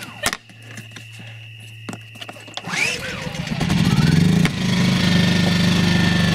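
A $25 Lowes generator engine is pulled and sputters to life, then settles into a loud, steady running drone close by after a few seconds of handling noise.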